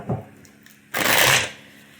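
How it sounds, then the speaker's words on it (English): Tarot cards get a single quick riffle shuffle, a short crisp burst of flapping card noise lasting about half a second, close and clear. "little quick shuffle for you"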